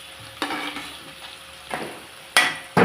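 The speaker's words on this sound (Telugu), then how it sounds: "బాగా ఫ్రై చేసుకొని" Eggs with chili powder fry in a pan, a soft sizzle under a few brief stirring scrapes of a utensil against the pan, close by and without speech.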